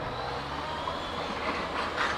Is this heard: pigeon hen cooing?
no